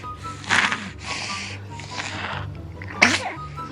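Two sneezes from someone indoors, a loud burst early and a sharper one near the end, with quieter breathy snorts between them.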